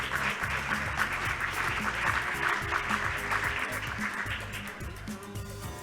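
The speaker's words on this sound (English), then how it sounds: "Big round of applause, ladies and gentlemen." Sustained applause from an audience at a business awards ceremony, many hands clapping steadily at moderate volume with a faint music bed underneath and no speech on top.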